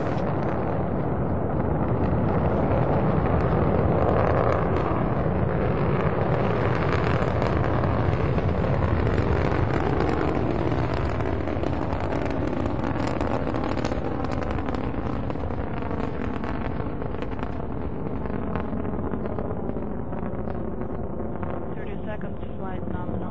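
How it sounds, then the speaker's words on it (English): A Soyuz rocket (Soyuz TMA-08) lifts off, a loud, continuous broadband roar that rumbles without break for over twenty seconds and eases slightly toward the end, with a voice underneath. "Liftoff of the Soyuz rocket transporting Jeff Williams, Pavel Vinogradov, and Marcus Pontes to their microgravity home in space."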